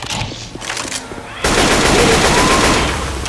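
Gunfire in the video game Left 4 Dead 2 erupts about halfway through as a loud, dense automatic barrage, after a quieter stretch of scattered shots and voices.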